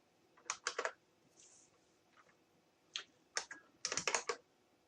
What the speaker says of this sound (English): The left hand actually types the notes.